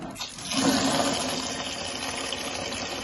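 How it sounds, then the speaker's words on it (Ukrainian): Ten liters of water gushing into a bucket holding urea and iron sulfate, a steady rushing pour that holds fairly loud and unbroken for about three seconds with no talking. "І карбамід із залізним купоросом засипала у відро і заливаю 10 літрів води."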